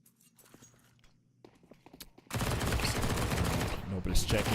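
Desert Eagle pistol fire rings out during a professional Counter-Strike match after a quiet stretch of footsteps, with sharp shots erupting into a loud, continuous burst of gunfire that fills the rest of the moment.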